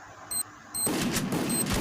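A grenade blast in a Thai-played action video game, a sudden broad burst of noise that rolls on and sustains loudly to the end after a quieter stretch with faint tonal game beeps.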